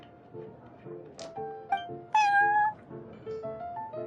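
A cat meows in Genshin Impact at the Cat's Tail, with several short mews and one louder drawn-out meow over soft background music.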